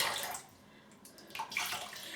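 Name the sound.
shaving brush being dipped into water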